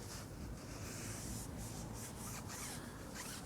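Tyre dressing gel being rubbed into a car tyre by hand, a steady, close, soft scrubbing and wiping sound that runs without a break and without any talk.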